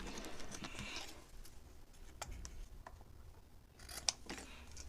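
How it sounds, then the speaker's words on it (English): Quiet snipping and crisp cutting sounds of scissors working through paper, close but faint, with a few sharper clicks scattered irregularly. "I am going to take my scissors and cut this off."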